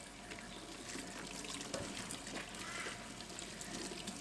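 Running water rinses creamy soap lather out of laundry washed by hand with homemade eucalyptus soap, a steady close splashing stream over the whole stretch with no talking.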